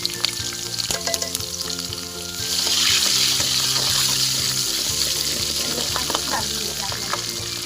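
Ginger and garlic fry in hot oil with cumin, mustard seeds and curry leaves, giving a loud, steady sizzle with scraping stirs throughout and no voices.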